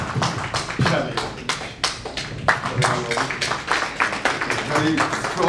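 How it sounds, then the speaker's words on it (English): A conference audience at a medical association's annual meeting claps for its outgoing and incoming chairman, a dense run of close, sharp individual claps that goes on steadily for several seconds, with a voice speaking faintly underneath. "So big round of applause for our outgoing chairman and incoming chairman"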